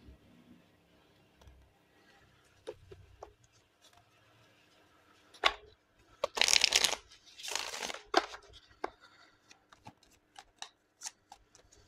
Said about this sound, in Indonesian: Kita bakalan buka, shuffle dulu kartunya.